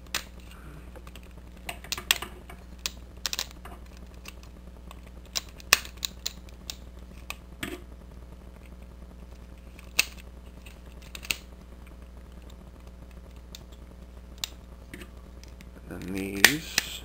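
Plastic parts of a VF-1A Super Valkyrie toy (Hikaru Ichijyo version) clicking into place during transformation: sparse, sharp ticks scattered over a quiet background, ending in a quick cluster of clicks.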